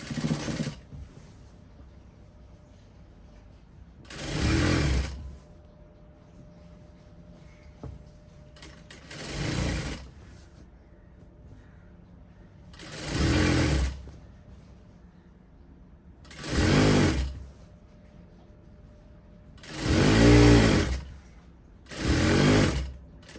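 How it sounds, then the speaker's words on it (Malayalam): Sewing machine stitching a frock hem runs in six short bursts of a few seconds each, separated by quiet pauses, close and fairly loud. "ഇതിൻ്റെ അടിയിലും കൂടെ ഒന്ന് മടക്കി തയ്ക്കുവാണെങ്കിൽ ഈ ഒരു ഫ്രോക്കിൻ്റെ സ്റ്റിച്ച് കഴിയും"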